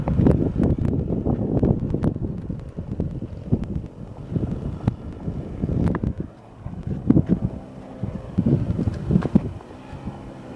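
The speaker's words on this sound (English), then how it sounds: "wind is blowing good" Strong wind buffets the microphone outdoors, a loud, continuous low rumble that swells and dips in gusts across the whole stretch, with no clear voices over it.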